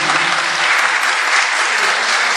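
Loud, steady applause from an audience at a music presentation as young performers are introduced, a dense wash of clapping filling the whole moment.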